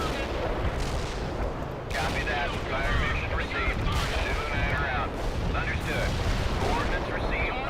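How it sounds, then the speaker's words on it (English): Heavy launch and explosive combat sound from a TOW missile fired at a Missouri battleship in the game World in Conflict, with continuous loud booming and rumbling battle noise and a few bursts of blasts throughout. "Somebody's firing a tow at the Missouri"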